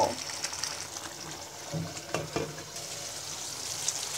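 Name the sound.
raw mango pickle cooking, covered, over medium heat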